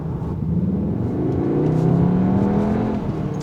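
A Cupra Formentor 300bhp's engine comes to life, a loud close whirring rev whose pitch climbs and holds, then settles into a steady idle-like hum.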